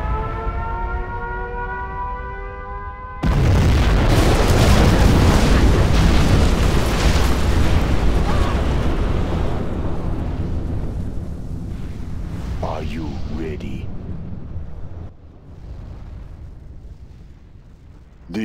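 A nuclear missile detonates in Command & Conquer Generals Zero Hour, a sudden massive roar breaking in after a rising siren-like tone, then rumbling and slowly fading over many seconds with scattered crackles and a voice line briefly over it.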